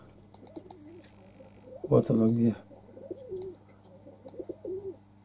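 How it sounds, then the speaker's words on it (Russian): Pigeons coo softly in the background, low repeated murmuring phrases, with someone speaking Russian briefly over them near the middle. "Ой, голуби у меня воркуют."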